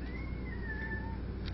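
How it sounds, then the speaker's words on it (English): A cat gives one drawn-out, wavering meow, close by and fairly soft, over a low background hum with no talking. "Isn't he about the most handsome cat ever?"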